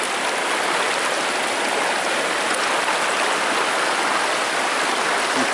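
Steady, dense rushing of flowing water, like a river stream running over rocks, constant and fairly close with no voices.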